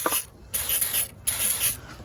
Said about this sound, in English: I'll spray a little bit on that one and a little bit on that one right there